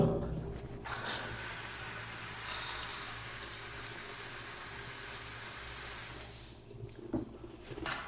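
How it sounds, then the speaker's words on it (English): Water from a shower in a guesthouse bathroom in Mae Sariang, Thailand runs in a steady hissing spray that starts abruptly and continues for several seconds before tapering off, heard close with slight handling noise at the end. "So quick test of the shower."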